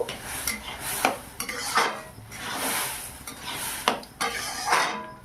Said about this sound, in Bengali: পুরোপুরিভাবে দেখুন সেদ্ধ হয়ে গেছে ডাল, সবজি সব কিছু। একটু নেড়ে চেড়ে নেব।